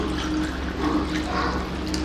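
Water poured into a container while an energy drink is mixed at home, a steady close splashing and trickling wash that runs for a couple of seconds with no speech.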